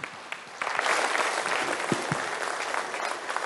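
Audience applause at a summit session after the External Affairs Minister of India speaks, steady and moderately distant, with a few sharper claps standing out across three and a half seconds.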